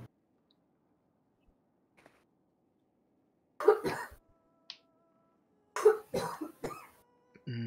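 A person sneezes twice in an otherwise quiet room. Each sneeze is a short, sharp, close burst, and the two are a couple of seconds apart.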